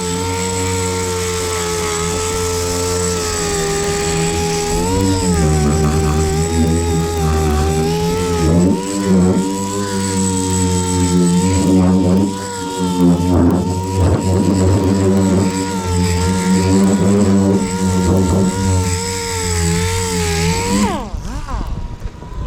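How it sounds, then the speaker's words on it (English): An 80 grit DA sander strips paint from a car roof panel with a steady, close, continuous whir and grinding hiss. The sander runs for about twenty seconds before spinning down. "Doing this with 80 grit DA also gets rid of any 40 grit big wheel scratches that you miss."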